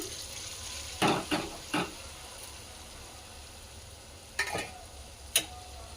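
Rice added to hot oil with cooked vegetables for vegetable pulao gives a soft low sizzle, broken by a few scraping stirs in two short bursts and a single sharp clink, close and quiet.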